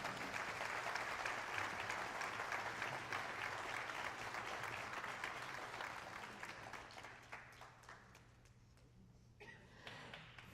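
An audience at a South Carolina African American History Calendar unveiling ceremony claps in a sustained round of applause that gradually thins and fades toward the end.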